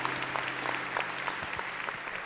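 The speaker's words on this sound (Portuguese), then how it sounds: "Vamos aplaudir a palavra de Deus" A church congregation applauds after the Gospel reading at Mass, a soft, steady patter of clapping heard at a distance with faint voices beneath.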